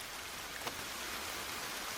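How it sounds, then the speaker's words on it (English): Steady rain falls in the horror game ACCIDENTALLY, a soft, even hiss of drops that holds at a constant low level for two seconds, with one faint brief tick near the start. "I hear the sound of rain."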